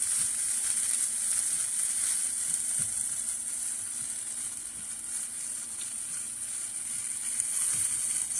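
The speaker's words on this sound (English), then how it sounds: "You want to make sure you keep stirring your tofu so it doesn't burn." Tofu sizzles and fries steadily in sauce in a pan, a continuous close crackle with faint stirring scrapes and no talking.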